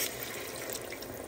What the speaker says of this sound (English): Then I'm going to stir it, and then I will add little water.